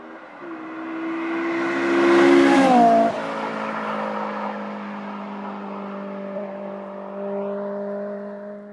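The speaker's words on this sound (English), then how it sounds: "So for anybody who couldn't catch what that car was, it's a Honda S2000." A heavily modified Honda S2000 on a track day: a high-revving engine screams past, rising then dropping sharply as it passes near, followed by steady engine tones continuing at a distance, with no talk.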